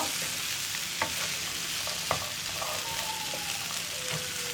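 Beans and potatoes fry in a pan while being stirred, a continuous close sizzle broken by occasional light scrapes and taps of the spoon.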